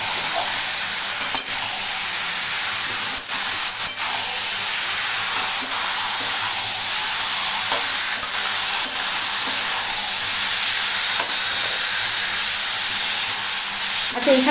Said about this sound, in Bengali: এটাই আমি একটু ভালো করে কষবো।